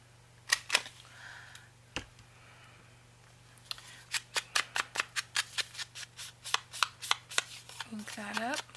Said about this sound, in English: I'm going to go ahead and cut this with my 1/2 inch punch